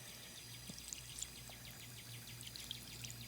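Water splashes and trickles steadily at low volume as an intake filter is rinsed, with faint bird chirps scattered in the background.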